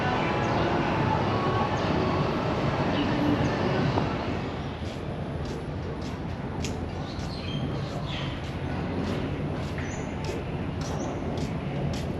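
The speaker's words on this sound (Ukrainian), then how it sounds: "поїзд їде сам" A driverless train running in Singapore, a loud continuous rumble and rolling roar that eases slightly partway through, with faint high chirping tones above it.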